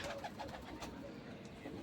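Pigeons coo softly in a loft or coop, several low throaty calls overlapping in a quiet, steady murmur, with faint voices nearby.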